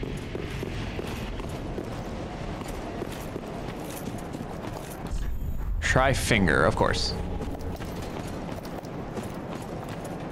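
Quick hoof-like footfalls of an approaching Pontiff knight in Dark Souls III clatter through the game's ambient noise, growing louder for a moment around the middle, while a player talks over it.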